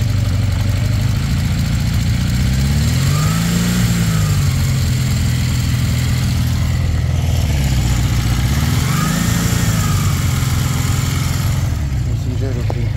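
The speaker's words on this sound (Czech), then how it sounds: "Trošku si zvýšíme otáčky." A 1979 Honda CB 650 RC03 motorcycle engine, already warm, idles nearby and is revved twice, rising and falling in pitch each time, with a steady mechanical rumble throughout.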